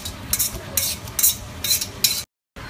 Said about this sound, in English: Stir your ground beef and your tomato sauce in together.